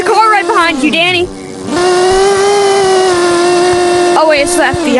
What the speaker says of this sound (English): There's a car right behind you